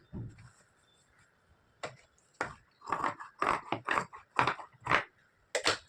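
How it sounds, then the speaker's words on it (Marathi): Scissors trimming off extra fabric from a sewn trouser waistband, a series of close, crisp snips, a few spaced apart then several in quicker succession, fairly quiet overall. "तर हे मी एक्स्ट्रा फॅब्रिक कापून टाकणार आहे."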